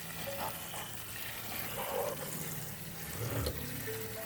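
Rinse water draining from a homemade sprouting tray of mung beans, a faint, steady trickle and splatter with a few small gurgles, quiet and close.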